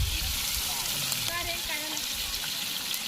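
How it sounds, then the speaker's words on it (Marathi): Onions fry in hot oil with a steady, close hiss and crackle that fills the short stretch, while someone talks over it. "कांद्यामध्ये तेल टाकून घेतलं"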